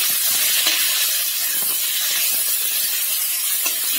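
Chicken with a little salt frying in a pan for chicken aloo, a steady bright sizzling hiss with scattered soft crackles, close and continuous, no talking.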